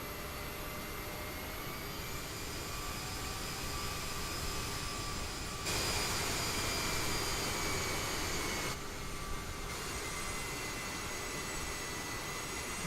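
Aerosoft CRJ jet engines whine steadily while taxiing in MSFS 2020, a constant turbine hum with high tonal whistles that swells briefly louder midway, no voices present.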